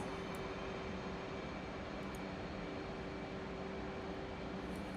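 An F/A-18C jet in the DCS World flight game climbing out, a steady, continuous engine roar that stays constant and fairly loud throughout, with no voices.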